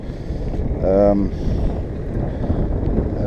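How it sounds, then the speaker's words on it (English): Wind gusting across a lake around a fishing kayak, a steady low roar and microphone buffeting that continues throughout, with a brief spoken word near the start. "the wind has come up. It's blowing us into a corner."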